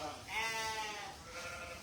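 A Dutch gimmer ewe bleats at lambing time on a farm, one long wavering cry close by, followed by a fainter second call, with no talking over it.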